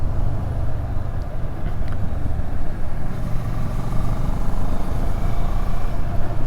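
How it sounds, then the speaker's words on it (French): The engine and intake of a Moto Morini Seiemmezzo, an Italian motorcycle, drone steadily and close, a loud continuous low rumble with no voices. "on a une très belle sonorité d'admission qui est assez flatteuse quand on va mettre du gaz"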